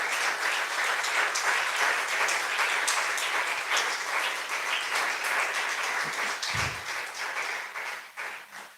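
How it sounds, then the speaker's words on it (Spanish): Congregation applauding in a church service, sustained dense clapping filling the room for several seconds before thinning out near the end, with no talk over it. "¿Cuántos pueden aplaudir a ese Dios santo?"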